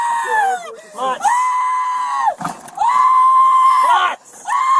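A man screams loudly and repeatedly while held by an LAPD police K9 after a foot chase, with long, strained, high-pitched wails broken by short pauses.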